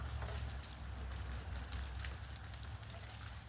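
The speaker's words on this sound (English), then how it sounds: "It sounds like a heavy, steady rain because you can hear it just pouring out of that tree." Heavy, steady rain pouring off a tree, a dense continuous hiss and patter with a low rumble underneath, even and unbroken throughout.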